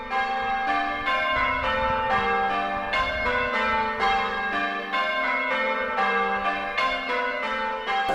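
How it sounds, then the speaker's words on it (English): Village church bells ring continuously in a rapid, overlapping peal, loud and close, with no voices. "Oh, really lovely hearing the bells ringing."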